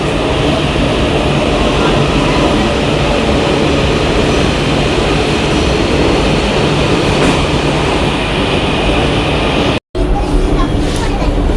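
A metro train pulls into Sovabazar station and runs on, a loud, steady rumble of wheels and motors filling the scene throughout, with a brief dropout near the end.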